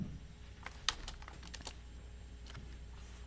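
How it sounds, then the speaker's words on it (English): Computer keyboard typing at a quiet indoor spot, a quick run of light key clicks with one sharper tap, then a short pause and a few more keystrokes near the end, with no voices. "Can you guys hear the keyboard now?"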